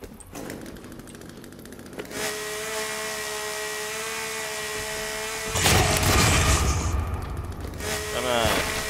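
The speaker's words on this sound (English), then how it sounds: "Chainsaw." A chainsaw runs in a forest with a steady buzzing drone, moderately distant, joined by louder rustling and handling noise near the end.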